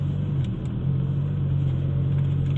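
Audi R8 V10 sports car with a 525 hp engine pulling away slowly at the Issoire circuit: a steady low engine rumble at gentle throttle, close and continuous, with no talk.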